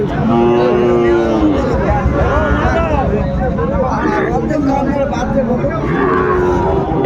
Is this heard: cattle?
yes